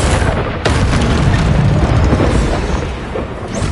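The Confringo fire spell explodes in the Hogwarts Legacy video game: a heavy, booming blast hits sharply just after the start, then a dense rumbling roar lingers before tailing off.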